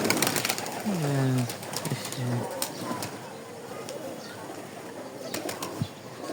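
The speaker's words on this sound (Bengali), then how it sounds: "মাথার পে চলে এসছে কবুতরটা," A pigeon gives several soft, close coos in a rising rhythmic pattern, followed by sharp wing flaps and clatters, with outdoor ambience.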